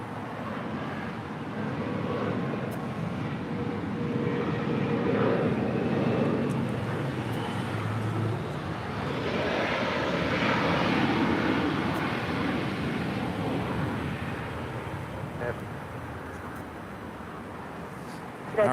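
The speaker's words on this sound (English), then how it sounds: "This arrival is United Express 4731 coming in from Bozeman on an" A United Express Embraer E175 regional jet arriving at LAX on a flight from Bozeman, its broad engine roar swelling steadily to a peak and then easing off as it passes, with no voices.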